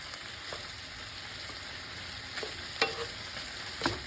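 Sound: onion frying in pan, stirred

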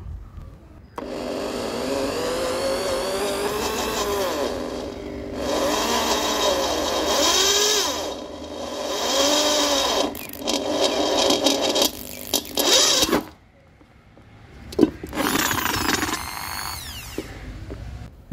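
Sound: drill boring through thick metal at low RPM

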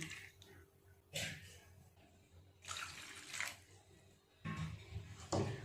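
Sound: flour dough being washed in changing water

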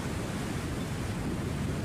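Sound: strong wind at sea on a fishing boat

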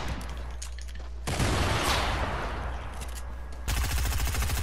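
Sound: gunfire in video game Fortnite

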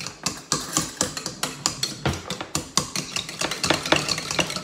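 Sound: spoon stirring mashed cauliflower in a pot

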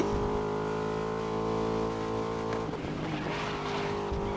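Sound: race car driving fast in the video game GRID 2019

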